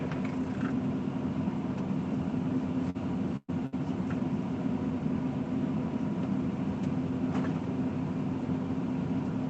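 A truck idling at a truck stop, a low, even drone that runs steadily for several seconds with one brief dropout and no voices.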